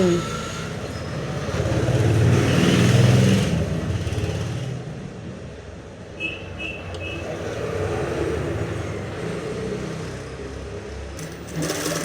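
A sewing machine in a tailor's shop stitches a front panel onto a garment, running in steady rumbling bursts that rise and ease off with a short pause mid-run.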